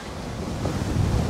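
Wind and waves while sailing a yacht at around 15 knots of wind on a beam reach from Portugal into the Mediterranean, heavy wind buffeting the microphone over a rushing wash of water, loud and constant.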